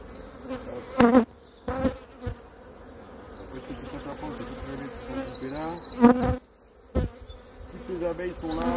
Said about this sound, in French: Toutes les abeilles sont là.